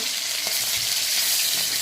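Fried fish sizzling in a hot pan makes a dense, continuous crackle at close range, even in level and unbroken, with no voices.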